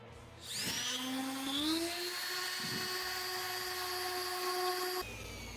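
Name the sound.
orbital sander with 80 grit on metal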